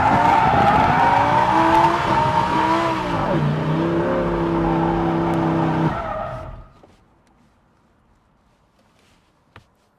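A Lamborghini doing sends roars loudly with screeching, skidding tires, its engine pitch sagging midway before the sound abruptly cuts out into near silence, broken only by one faint click.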